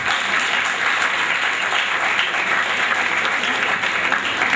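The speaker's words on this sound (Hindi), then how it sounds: "तो मेरा ख्याल है जोरदार तालियां एक बार फिर" Loud, dense applause from a college festival audience at a commerce event, a continuous roar of many hands clapping close to the microphone, unbroken for several seconds.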